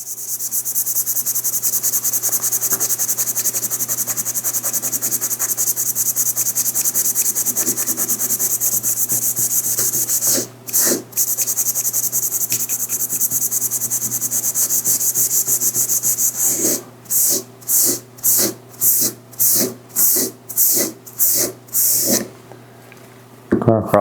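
Scouring pad wet-scrubbing rust off a carbon steel knife blade, a steady close abrasive rubbing that runs continuously, then breaks into a series of short rhythmic strokes near the end.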